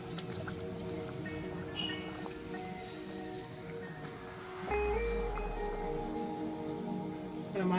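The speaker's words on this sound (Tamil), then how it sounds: "வடிச்சு வச்சிருக்க அரிசியை போட்டுடலாம்" Drained rice tipped into a pot of chicken dum biryani, heard as a wet, pattering, rain-like rush of grains landing, with a sizzling and hissing background and a low thump partway through.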